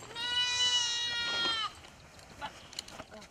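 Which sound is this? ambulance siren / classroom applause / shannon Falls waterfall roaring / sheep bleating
sheep bleating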